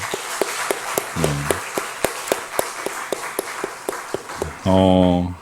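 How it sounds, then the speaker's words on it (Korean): Church congregation claps to bless the children, sharp, evenly spaced beats in a steady rhythm, with a voice briefly heard partway through and a louder sustained tone near the end. "우리 자녀들 축복하는 마음으로 박수 한번 쳤으면 좋겠습니다"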